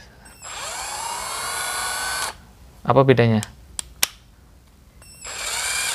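A Maishi cordless drill whirs at a steady high pitch for a couple of seconds, stops, then starts again on its faster second speed setting; a voice speaks briefly in between.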